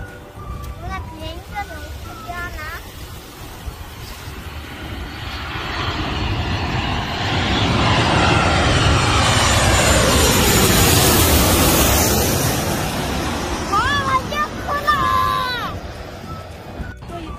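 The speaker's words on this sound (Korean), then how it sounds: "네, 비행기가 오고 있는데요." An airplane approaching overhead at a viewing spot in Busan, its jet roar swelling from faint to a loud broad rumble at the middle and then fading, with a few voices talking near the start and end.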